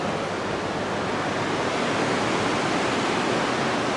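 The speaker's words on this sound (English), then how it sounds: "The waterfall in the background." A waterfall in Ketchikan, Alaska, heard as a constant broadband rush of falling water, steady and fairly loud, with no talking.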